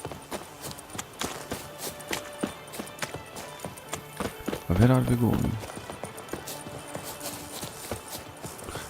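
Horse hooves clip-clop steadily at a run in the video game The Witcher 3, a rhythmic pattering that continues throughout while a voice speaks briefly in the middle.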